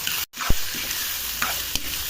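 Chicken fries in oil with onions and ginger-garlic paste, a loud, steady, close sizzle with a brief dropout near the start and a few stirring clicks, no talking.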